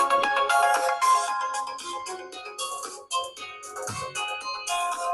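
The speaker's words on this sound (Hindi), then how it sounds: "ये इसकी ड्यूल स्पीकर साउंड सुनते हैं।" A Tecno Camon 40 phone's dual speakers, top and bottom, play a ringtone loudly and clearly, a bright melodic tune with layered tones, with no voices.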